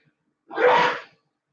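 A single sharp sneeze bursts out close up, then silence.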